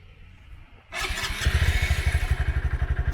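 A Honda Grom motorcycle engine catches and starts up, then settles into a steady, fairly quiet idle with even exhaust pulses, close by and with no talk.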